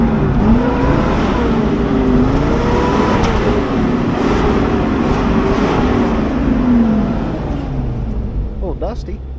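A $400 auction truck engine idles and runs steadily, a continuous low rumble with a faint wavering whine that holds for the whole stretch, while people talk over it.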